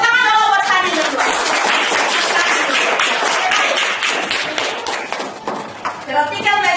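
Classroom applause from students at a school, a dense burst of hand clapping that fills most of the clip and thins out near the end, with a teacher's voice heard at the start and finish.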